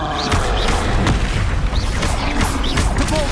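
A Confringo fire spell explodes in the Hogwarts Legacy combat game, with dense booming blasts and clashing crashes packed into a loud, continuous battle soundscape with no pauses.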